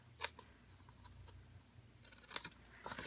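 Tiny scissors cut through paper for a treat bag, making a few sharp, close snips separated by quiet pauses and ending in a quick cluster of cuts.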